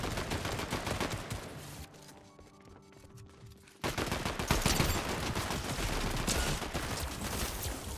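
Loud, sustained gunfire in the Fortnite video game, with rapid continuous shots close up, a short lull at mid-clip, then another long burst.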